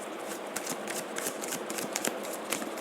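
Tarot cards riffle and shuffle in quick close bursts, a dense papery flutter with rapid repeated snaps, heard alone at moderate volume.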